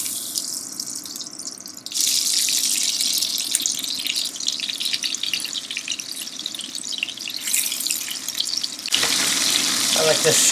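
Beef rouladen sear in oil and butter in a hot pan, giving a loud, steady hiss that rises sharply after a quieter start and briefly cuts out near the end.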